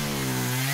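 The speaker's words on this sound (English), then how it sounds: "It's only today that we managed to get a shot of Henry's chainsaw." A chainsaw cutting trees runs at high revs in a steady, loud, close buzz that holds its pitch for under a second, with no talk over it.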